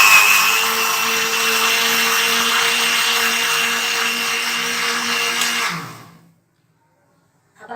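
Electric kitchen blender whirring steadily while mixing jamun, sugar and cold water into sharbat, a loud continuous motor drone that runs for about six seconds and then winds down abruptly to silence.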